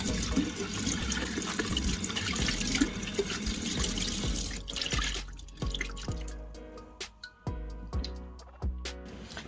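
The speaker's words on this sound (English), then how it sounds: "after we washed it through in cold water" Water runs steadily from a tap at first, then breaks into irregular splashes and drips as descaled rohu fish are rinsed in cold water and handled in a sink.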